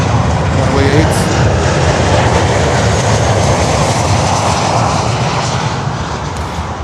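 An airliner departs Miami airport, its engines a loud, steady broadband roar that holds throughout and eases slightly near the end.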